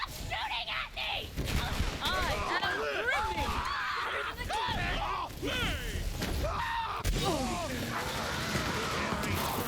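Repeated gunfire in the video game Borderlands 3, steady bursts mixed with chaotic game effects and people talking over the action.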